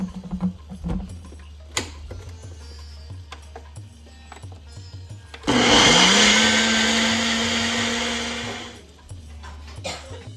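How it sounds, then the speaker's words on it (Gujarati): A kitchen blender purees cooled tomato chutney in one loud, close whir lasting about three seconds. The motor spins up fast, then winds down. Soft clatter and handling sounds come before and after it. "આ સાઈડ પર આપણે ટામેટાની ચટણી જે બનાવીને તેને ઠંડી થાય પછી હવે આને આપણે બ્લેન્ડ કરી દઈશું."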